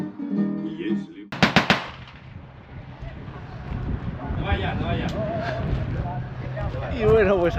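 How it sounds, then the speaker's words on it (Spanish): A short, sharp burst of rapid machine-gun reports rings out at the Stalin Line historical site near Minsk, Belarus, followed by people talking over a noisy open-air background. "aquí te puedes poner con tu buena metralleta a pegar tiros. ¡Qué escandalera!"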